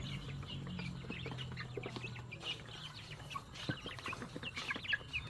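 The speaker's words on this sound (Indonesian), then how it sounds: "Oke ya, jadi ayam langsung menyantap ya." Young chickens under two months old cluck and peep busily while eating mixed grower feed, a soft continuous flock chatter with a low background hum.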